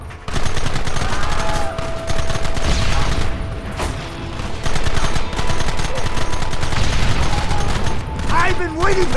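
Loud, dense bursts of rapid video-game gunfire, machine-gun volleys and single shots crowding together almost without pause, with brief tonal effects mixed in.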